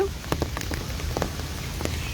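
Rain falling in Lahore pours steadily in a dense patter, with close drops tapping a surface in quick irregular ticks throughout.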